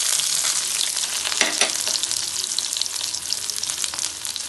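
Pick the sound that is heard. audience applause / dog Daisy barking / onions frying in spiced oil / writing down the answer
onions frying in spiced oil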